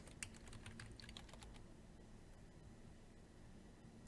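Fingers typing on a computer keyboard, a quick burst of soft clicking keystrokes early on, then fading into faint room hiss; quiet and close, no talking.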